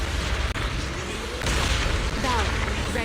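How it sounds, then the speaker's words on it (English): Explosions in the Zenless Zone Zero video game: loud, dense rumbling booms filling the mix continuously, with a sharp burst near the start and swelling blasts later; no speech. "Move in during the gaps between explosions."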